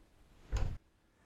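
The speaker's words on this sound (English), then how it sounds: "You should hear that click as the claw goes over the spring" A free-swing door closer with all closing force removed gives a single sharp click as its claw passes over the spring, one short mechanical burst standing alone in a quiet room.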